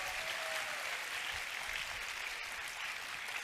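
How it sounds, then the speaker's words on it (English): A symposium audience gives steady, even applause, a dense wash of clapping without pauses for a few seconds. "Can we give them another round of applause,"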